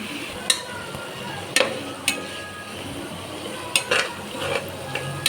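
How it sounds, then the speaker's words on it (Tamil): Tomatoes and onions sauté in a pan with a soft steady sizzle, broken by several sharp clicks and scrapes of a utensil against the pan. "தக்காளி வெங்காயம் நல்லா வதங்கிடுச்சு"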